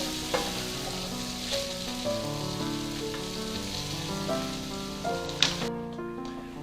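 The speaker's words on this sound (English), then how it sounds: "We want to saute these onions until they're just slightly translucent" Onions for lamb curry sizzle and fry in a pan, a steady crackling hiss with faint spatters and a few soft clicks of a utensil, set against quiet background music.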